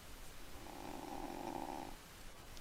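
A character snores in the video game Parasite Eve 2: one long, low, rumbling breath lasting over a second, faint and steady under a quiet background hum, with no speech.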